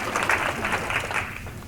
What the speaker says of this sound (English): Give of yourselves a round of applause really quick for that.